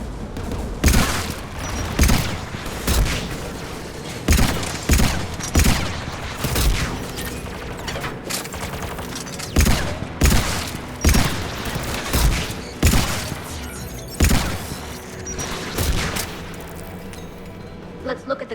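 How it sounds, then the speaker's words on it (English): Anti-aircraft guns in the game Mass Effect 3 fire heavy, booming shots about once a second over a constant rumbling battle din, loud and close. "AA guns ahead of us."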